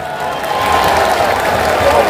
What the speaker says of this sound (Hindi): इन सब के लिए एक बार जोरदार तालियां बजा दीजिए।